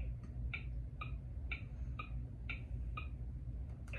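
The ticking clock sound of a 2007 VTech baby learning laptop toy: about eight crisp, evenly spaced electronic ticks, one every half second, close and clear with no talking.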